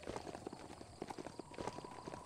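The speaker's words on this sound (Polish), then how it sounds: "Patrzcie, jakiego mamy konia." Horse hooves clip-clop in the video game Biomutant, a steady, fairly quiet rhythmic trot of repeated hoof strikes with no speech over it.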